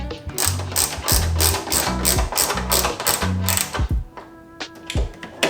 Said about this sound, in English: you can take that nut and reattach it to the stud